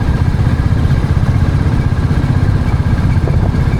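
A Royal Enfield Bullet motorcycle engine thumps steadily and loudly while riding, a continuous low rumble with slight clatter and no talk.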